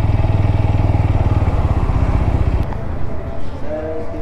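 An RTR motorcycle idles with a close, loud, rapid even thumping outside a bike service centre, then the engine cuts off partway through, leaving quieter clatter and faint background sounds.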